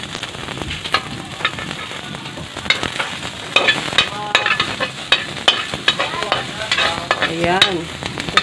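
Garlic and onion sautéing in a pan for crabs cooked with coconut, a close, crackling sizzle broken by repeated scraping stir strokes, with one brief spoken word.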